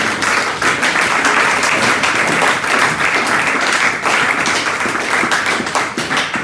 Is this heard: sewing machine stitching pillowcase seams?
no